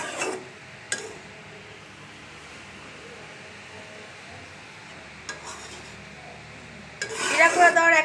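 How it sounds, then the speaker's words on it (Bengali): Fried fish roe being stirred with fresh roasted cumin powder in a pan, a few sharp utensil scrapes and clinks over a low kitchen hum, ending with a louder burst of clattering. "জিরার গুঁড়া দিয়ে একটু লাড়াচাড়া করে নিচ্ছি।"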